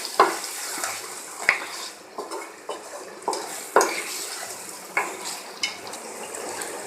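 Fried taro (arbi) stirred into a masala in a pan, a soft sizzle running under regular sharp clinks and scrapes of a spatula against metal, close and clear, no voices.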